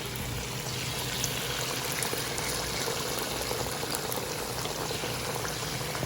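Chicken pieces for orange chicken are dropped one at a time into hot oil, giving a steady, loud, bubbling sizzle that runs throughout without any voices.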